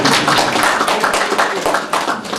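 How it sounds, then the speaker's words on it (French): Guests at a wedding break into loud, dense applause, a continuous close wash of clapping that holds steady for a couple of seconds. "Applaudissez pour elle."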